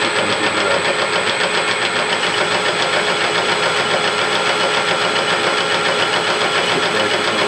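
A metal lathe takes a 20-thou cut with AnchorLube cutting fluid, producing a loud, continuous mechanical whir with a steady rhythmic chatter throughout.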